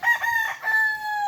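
A rooster crows once nearby, a loud drawn-out call that rises then trails off.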